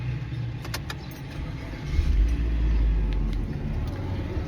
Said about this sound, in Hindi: चलें स्टार्ट तो करें ना गाड़ी को।